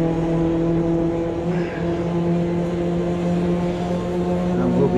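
A Mazda MX-5 engine in the Automobilista 2 racing game hums in a steady, near, tonal drone in second gear, holding a fairly even pitch with slight dips, while a voice talks faintly in places.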